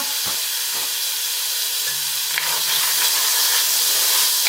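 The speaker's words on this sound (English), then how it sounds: "We're going to saute these up." Frozen vegetables for chicken fried rice sauté in a hot pan with an even, hissing sizzle and a few soft stirring knocks, close and without voices.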